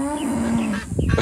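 Backyard chickens clucking close by in a short burst, a drawn-out call followed by a few quick clucks.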